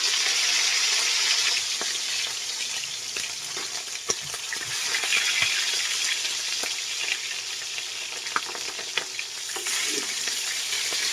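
Bullet tuna (tulingan) sizzles steadily in hot cooking oil, a close, dense crackle with scattered pops that runs unbroken and fairly loud, with no voices.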